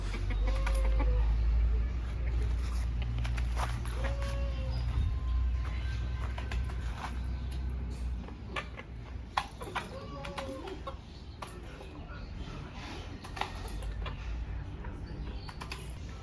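Chickens cluck and call intermittently on an egg farm over a steady low rumble of background noise, with a few sharper calls standing out.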